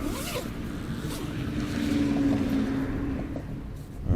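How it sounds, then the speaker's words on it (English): A clothing zipper drawn once in a slow, steady pull, close and clear over a low engine-like hum. "Thought my zipper was messed up."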